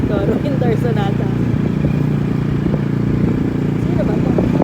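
Motorcycles pass by in a steady, loud rumble of engines with some clatter, mixed with traffic noise and background talking throughout.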